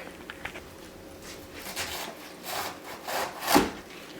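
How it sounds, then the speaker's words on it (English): A knife slices cabbage leaves thinly for kimchi, making a series of rasping cuts against a board that grow firmer over a few seconds, close and alone. "Then I start cutting it thin. I go like only a quarter to an eighth of an inch thick."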